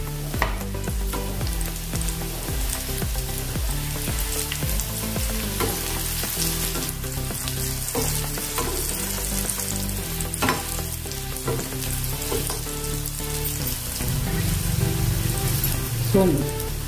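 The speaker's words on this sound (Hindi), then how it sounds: "यानी ब्राउन कलर आने तक इसको तलना है" Fenugreek-leaf vada fritters deep-frying in hot oil give a dense, continuous sizzle and bubbling, with occasional stirring and scraping, close and loud throughout with no talk.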